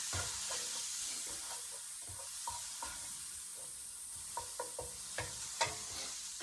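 Chorizo frying in a pan for chilaquiles, a soft continuous sizzle with intermittent scraping and stirring knocks from a utensil, fairly quiet and close.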